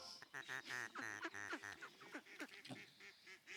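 Ducks quack repeatedly in quick, nasal bursts, several calls overlapping in an irregular rhythm, fairly close but recorded at low level.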